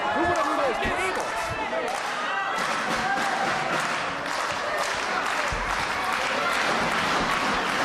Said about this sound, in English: Listen to this crowd, Eric.